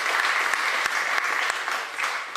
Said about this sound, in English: a big round of applause for their incredible organizational skills